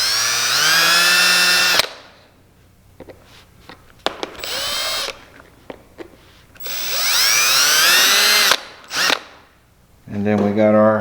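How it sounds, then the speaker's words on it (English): Cordless drill boring 1/8 inch holes through a Can-Am Maverick X3 windscreen, with two loud sustained whining runs rising in pitch and short bursts between, separated by quiet handling noises. "So we're just going to drill 1/8 inch hole."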